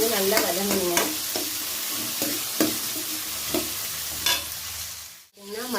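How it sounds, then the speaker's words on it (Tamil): Onions sautéing in a pan for a sardine fish curry, a dense close sizzle with rhythmic spatula scrapes and stirs, briefly cutting out near the end before resuming. "இப்போ இது வந்து நல்லா வதங்கணுங்க."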